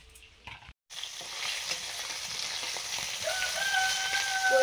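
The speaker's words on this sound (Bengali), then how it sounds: "কই মাছগুলো ভাজা হয়ে গেছে।" Desi koi fish fry in a pan with a loud, continuous sizzle and crackle of hot oil after a brief quiet start. A rooster crows faintly in the background toward the end.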